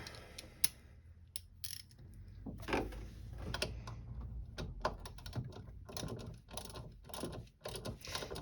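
Ratchet clicks and small metallic clatter from tightening a part on an MG Maestro Turbo, a close series of short ticks in irregular bursts over faint background hum.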